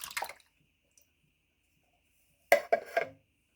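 Two short bursts of wet, sloppy pouring a couple of seconds apart, canned peaches and syrup sliding into a dish, close and moderately loud.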